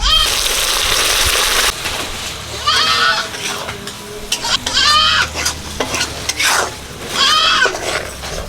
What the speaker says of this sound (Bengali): সরষের তেল গরম হয়ে গেছে পেঁয়াজ রসুন আদা বাটা দিয়ে দিচ্ছি